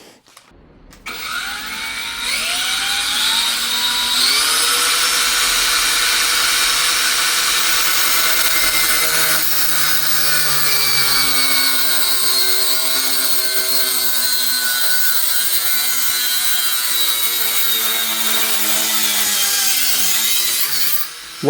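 A Parkside PPWSA 20 Li A1 cordless angle grinder cuts continuously for about twenty seconds, a loud, close, high whining grind with a shifting pitch that spins up at the start and winds down at the end, with no voices.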